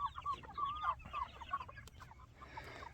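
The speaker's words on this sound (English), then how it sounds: "the chickens are doing good" Broiler chickens clucking nearby in short, rhythmic bursts, with a few quieter clucks and rustling toward the end.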